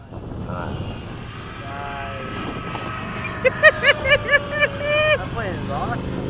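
An FMS 80mm Hawk RC ducted-fan jet and a Freewing 90mm F-22 fly together, giving a steady, moderately loud turbine-like whoosh with a rising whine. Outdoor voices carry in the background.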